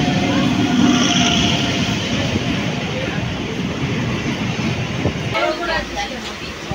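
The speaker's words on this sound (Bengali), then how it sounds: "ট্রেন এসে গেছে, আমার ট্রেন, এবার ওই ট্রেনটা উঠবো।" An early morning passenger train runs with a loud, steady rumble and rattle, heard close from on or beside the train, easing slightly near the end.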